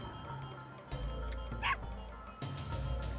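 A dog barks in The Legend of Dragoon, a few short yips rising over a steady low game hum, one sharper bark standing out near the middle, with no talking.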